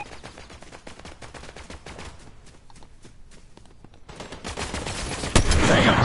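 Rapid gunfire in a video game firefight, scattered shots building to a sharp loud crack near the end, with footsteps and brief voice activity mixed in.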